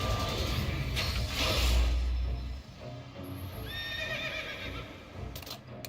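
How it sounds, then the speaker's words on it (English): A horse whinnies loudly in Final Fantasy XIII amid rumbling and mechanical clatter, followed by higher whistling tones, all with a synthetic game-like sound. "And Odin is a horse."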